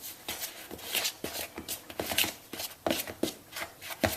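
Chocolate cupcake frosting being mixed by hand after a few drops of 2% milk are added, giving a steady run of soft scraping, squelching strokes and taps at close range with no talking.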